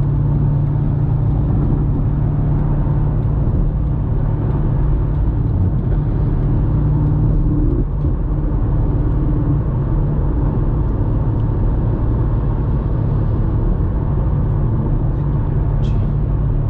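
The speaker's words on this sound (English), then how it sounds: "Truck moving faster than you." Loud, continuous rumble of a truck and other vehicles in night city traffic, a steady engine and road roar close by with a brief hiss near the end.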